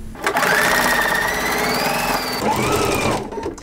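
A sewing machine stitches the final seam of a pinwheel quilt block in one steady, close, continuous run with a rising whine, easing briefly near the end.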